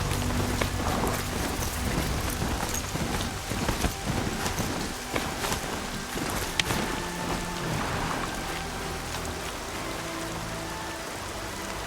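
Rain falls steadily in the video game Horizon Zero Dawn, a dense, even hiss of drops on surfaces with a few louder splashes and no voices.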